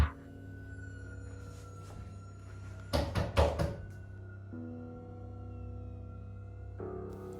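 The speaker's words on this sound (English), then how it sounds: "He is later woken up by someone or something knocking on his door." Several sharp knocks land on a door in a quiet indoor room, a loud cluster of raps about three seconds in over a steady low hum, with no voices.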